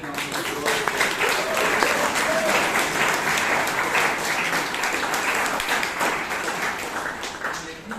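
Audience at a Bangalore Toastmasters club meeting applauding the people who prepared and served snacks, a dense, steady round of clapping lasting the full eight seconds before easing slightly at the end.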